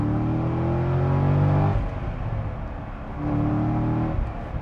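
A 2009 Chevrolet Corvette Z06 engine is revved up close toward 6,000 RPM, holding a steady high drone, easing off, then climbing again to a sustained rev.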